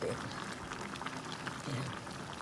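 Pineapple simmers in a pot of boiling liquid while piña ham is cooked, giving a steady, close bubbling and popping that runs through the whole stretch at moderate loudness with faint background noise.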